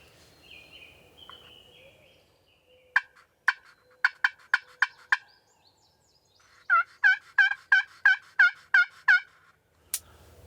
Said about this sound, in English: we're gonna fire up the call real quick and see if we can get one to gobble